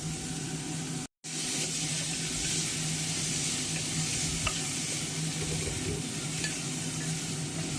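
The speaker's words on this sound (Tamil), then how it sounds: "இது நல்ல ஒரு பொன்னிறமா வதக்குவோம்." Onions sautéing in a pan until golden for a kadalai curry, a steady dense sizzle running throughout with a brief dropout near the start, no voices.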